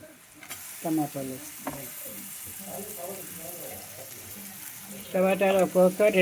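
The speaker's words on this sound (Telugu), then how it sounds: "ఆల్రెడీ పచ్చిమిరపకాయలు వేసాను 4. వేపుకోవాలన్నమాట." Green chillies frying in a pan while making potato and amaranth-leaf curry, a steady faint sizzle with stirring clatter, swelling into louder bursts of frying near the end while someone talks throughout.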